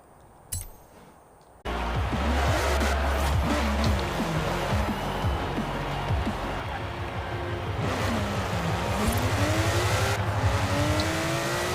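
Porsche Emory 356 RSR race car in Forza Horizon 4 accelerating hard, a loud, sustained engine roar with rising and falling revs through gear changes, following a brief quieter stretch at the start.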